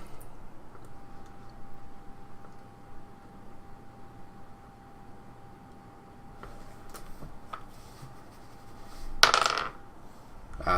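During a Dungeons & Dragons game at a table, a couple of faint clicks are followed by a brief, bright clattering burst of dice tumbling across the surface, set against quiet room tone.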